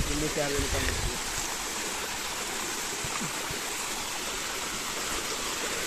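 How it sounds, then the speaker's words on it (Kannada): Steady broadband rush of a small stream flowing close by on a Kumara Parvatha trek, with a brief burst of voices at the start. "ಜರಿ ನೋಡಿ, ಚಿಕ್ಕ ಜರಿ ಹರಿತದೆ."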